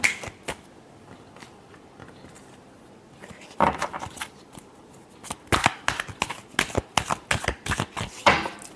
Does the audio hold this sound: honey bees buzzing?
no